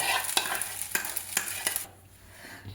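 A spoon scrapes and stirs pasta and fried vegetables in white sauce in a pan, giving several sharp, close strokes over a soft sizzle before the sound quiets near the end.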